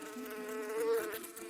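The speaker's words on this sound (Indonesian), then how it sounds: "Saat menyengat, lebah pekerja nggak bisa menarik penyengatnya karena di dalamnya terdapat duri." Worker honeybee buzzing, a steady close drone that swells slightly in the middle and continues without pause, with no voices.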